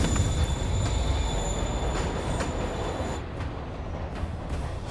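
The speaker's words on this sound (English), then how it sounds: "Train's moving." A subway-style train pulling out in the video game Marvel's Spider-Man, a loud rumble of wheels on rail with squealing metal tones and rhythmic clicks that ease off slightly as it moves away.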